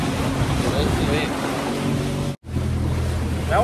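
Water and waves at Puerto Vallarta, where river water runs into the sea, make a steady, loud wash blended with wind buffeting the microphone and a low rumble. A brief dropout breaks the sound near the end.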